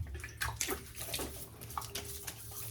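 Tap water running and splashing into a sink as hands wet the face before shaving, a steady close wash with small irregular splashes.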